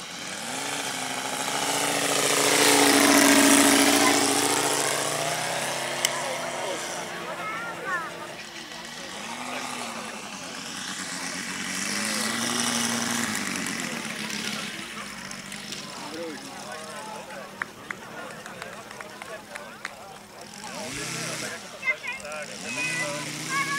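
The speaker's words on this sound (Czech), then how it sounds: "ten úžasný hvězdicový motor. Krásný zvuk, krásný vzhled letadla." A model Heinkel 72 biplane's radial engine drones and buzzes steadily at an airfield model meet, rising and falling in pitch as it passes, with people talking nearby over the engine.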